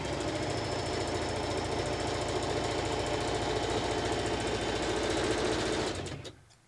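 A sewing machine stitches in a fast, steady mechanical chatter close by, running continuously before slowing and stopping near the end.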